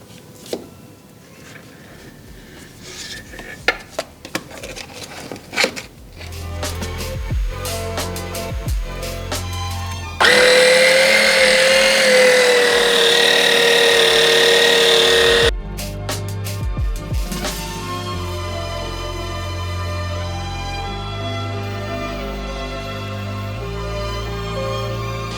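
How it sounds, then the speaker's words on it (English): An electric oil extraction pump draws engine oil out through the dipstick tube of a BMW E34, a steady whirring motor drone with a louder, harsher stretch in the middle, then a settled hum. "because I'm lazy, I am using the oil extraction pump to pump it from the oil dipstick"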